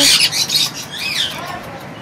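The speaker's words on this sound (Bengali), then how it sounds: "এখন দেখতে পাচ্ছেন এখানে অনেকগুলো রিং নেক পাখির সেটআপ আছে" Ring-necked parakeets at a parrot farm give loud, harsh squawking calls, a burst of overlapping shrill cries up close that fades into lighter chirps.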